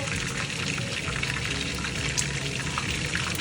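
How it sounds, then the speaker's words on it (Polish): Burger patties sizzling in a frying pan, a steady bright crackle and hiss with small pops, moderately quiet and continuous throughout. "I kotleciki się już smażą."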